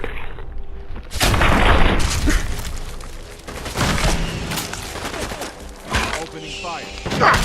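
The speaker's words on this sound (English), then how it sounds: "Opening fire." Heavy gunfire erupts in Fallout 4 with the Sim Settlements 2 mod. Loud, close bursts of shots and booming impacts repeat for several seconds, and voices speak in between the volleys.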